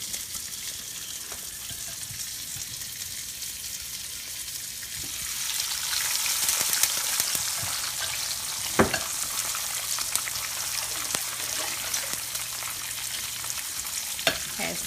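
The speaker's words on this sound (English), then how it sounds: "Had some grease to pop up." Onions frying in hot grease on a stovetop, a steady loud sizzle that swells midway with scattered sharp pops and crackles of spattering fat.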